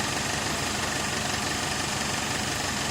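A car engine idles with the transmission shifted into drive and an odd extra noise present: a dense, steady mechanical rumble with a fine knocking texture, close and continuous throughout.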